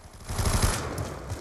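Automatic machine gun fire in Call of Duty Black Ops 2 Xbox 360 multiplayer, a rapid low burst of shots that swells mid-clip over game ambience, with no talk.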